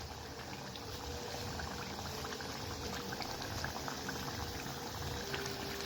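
Duck egg curry bubbles in a pot after water and eggs go in, a steady close simmering hiss with small popping bubbles running throughout, no voices.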